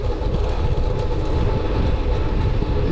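A train passes on railway tracks, a loud continuous low rumble of wagons rolling by with a steady rolling roar and no voices.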